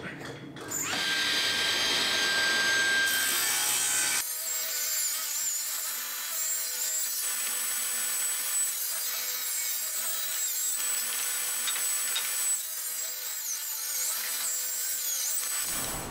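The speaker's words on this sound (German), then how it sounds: "Wie im Akkord wird hier durchgesägt und ich sag's nochmal, auch mit so einer kleinen Säge kann man alles machen, auch Massivholz." A small power saw cuts through solid wood with a steady, high, whining buzz that runs without letup for about sixteen seconds, loud and close in a workshop, its tone shifting slightly as the blade bites.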